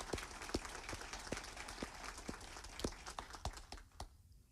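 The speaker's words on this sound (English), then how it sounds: "can we get a round of applause for our graduates" Graduates at a school ceremony receive applause: a thin, faint scattering of individual claps, fairly sparse and irregular, tapering off near the end.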